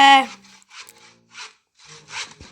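A wooden picture is sawn through by hand in bursts of rasping strokes, fairly close, with a short loud sound at the start and pauses between the strokes.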